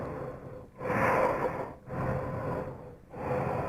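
Slowed-down breathing for a Last of Us infected creature, three long, deep, hollow breaths with short gaps between them, close and low-pitched, with no talk.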